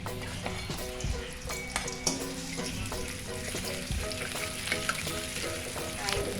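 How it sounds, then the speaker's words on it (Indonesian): Sliced shallots sautéed in hot oil, a continuous busy sizzle with crackling pops and occasional clinks of utensil on pan, close and steady throughout with no talking. "sekarang minyaknya sudah panas, kita tumis dulu bawang merahnya"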